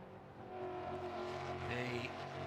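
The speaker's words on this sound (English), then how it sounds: "Coyote V8 engine sounding wonderful through the trees in that flat out blast down towards Canada Corner" A Ford Mustang race car's Coyote V8 runs flat out at Road America, a steady distant roar heard through trees with a sustained high-pitched engine tone throughout.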